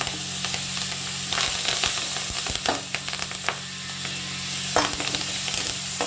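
Mango ginger, ordinary ginger, green chillies and curry leaves dropped into hot oil crackle and sizzle steadily, with sharp spattering pops throughout and no talking.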